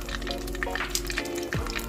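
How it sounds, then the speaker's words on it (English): Steamed minced pork rolls wrapped in bean curd skin frying in oil until crisp, a dense loud close sizzle with bubbling crackle throughout, no voices. "So just fry for a while till all the skin will become crispy"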